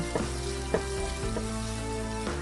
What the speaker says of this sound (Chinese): 锅中油烧热，放入葱花和红椒，炒出香味。